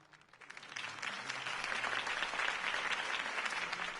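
Crowd applause in the Batman Telltale Series video game, rising quickly after a speech into a steady, dense wash of clapping that continues at moderate level.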